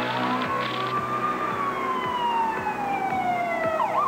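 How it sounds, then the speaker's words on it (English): Ambulance siren in Hennepin County, 1988, a loud wailing tone that rises and slowly falls, then yelps rapidly at the end, over traffic noise with no talking. "heads turn with a screeching siren and flashing lights"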